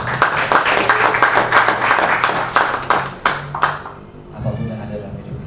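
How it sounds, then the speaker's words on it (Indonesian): A church congregation applauds during a sermon, giving several seconds of loud, dense clapping that thins and stops, followed by a voice speaking. "Berikan tepuk tangan, berikan semangat."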